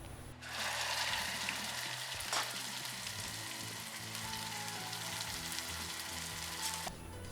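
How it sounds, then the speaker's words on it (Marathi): Spice paste with cumin and curry leaves hits hot tempering oil with a sudden loud sizzle that settles into a dense, crackling hiss, close and continuous, with a sharp pop midway before fading slightly at the end. "मस्तपैकी खमंग अशी फोडणी आपल्या वाटणाला बसलेली आहे।"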